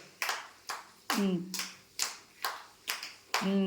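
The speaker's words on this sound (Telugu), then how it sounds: "క్లాప్స్ కొట్టండి" Children in an anganwadi preschool clapping together, a series of about eight sharp claps spaced roughly half a second apart, with a voice briefly heard among them.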